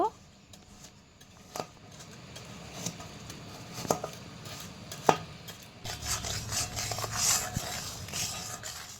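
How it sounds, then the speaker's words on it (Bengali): Sugarcane jaggery is stirred with a little water in a pan to melt it, giving scattered scraping taps and rubbing of a utensil against the pan, fairly faint and close, with a louder sizzling hiss building toward the end. "এবার আখের গুড়টা একটু নেড়ে চেড়ে গলিয়ে নেব"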